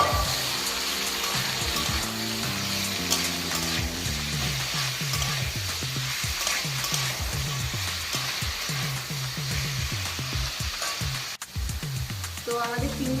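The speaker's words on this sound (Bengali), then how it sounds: "তেলটা একটু গরম হয়ে আসলে চিংড়ি মাছটা দেব। এবার আমরা চিংড়ি মাছগুলো দিয়ে দেব।" Prawns sizzle and crackle in hot oil in a pan, a loud, continuous frying hiss with occasional stirring scrapes and no talk.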